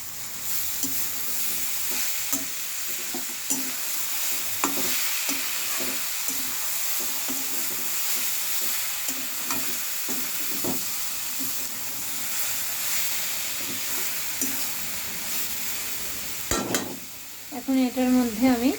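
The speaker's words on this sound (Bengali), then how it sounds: "এটাকে একটু নেড়ে চেড়ে দেবো।" Vegetable curry with cauliflower and a little added sugar sizzles steadily in a pan while a spoon stirs it with repeated scraping strokes, loud and close, ending in a brief burst of clattering near the end.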